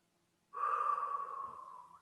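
Deep belly breathing during a yoga session, one slow, audible breath drawn through the nose, close and soft, lasting about a second and a half after a quiet start.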